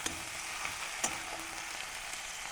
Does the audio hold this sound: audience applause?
no